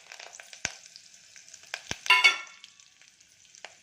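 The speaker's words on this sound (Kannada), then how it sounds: "ಇದೆಲ್ಲ ಸ್ವಲ್ಪ ಚಟಪಟ ಅಂತ ಇಷ್ಟು ಆದಮೇಲೆ ಸಾಂಬಾರನ್ನ ಬಗ್ಗಿಸ್ತೀನಿ ಇದರೊಳಗಡೆ." Mustard seeds, chana dal, urad dal, cumin, chillies, curry leaves and fenugreek splutter in hot oil for a sambar tempering, with scattered close pops and crackles and a brief louder sizzling burst in the middle.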